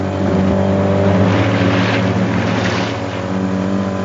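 A motorboat engine drones loud and close, a steady throaty roar with wind and water rush that swells slightly as the throttle opens.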